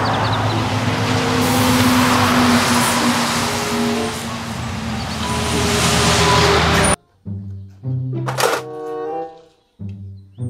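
A toy container truck makes a steady mechanical rumbling drone for about seven seconds, then gives way to short toy sound effects and jingles with a sharp high burst, loud and close.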